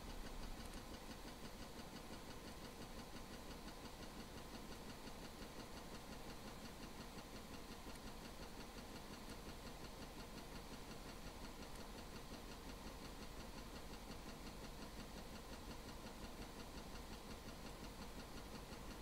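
Ship engines in the video game Stormworks run as a steady, continuous low rumbling drone, faint and unchanging throughout with no speech.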